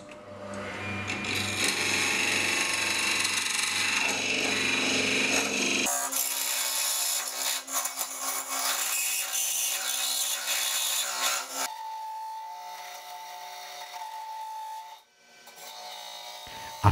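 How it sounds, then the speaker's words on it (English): Wooden goblet turned on a lathe, with scrapers held in locking pliers and fed slowly, giving a continuous scraping, rubbing whine of wood against steel that shifts in texture partway through and runs close and steady without speech. "I used wrench locking pliers to hold the scrapers while turning, and I took it really slow."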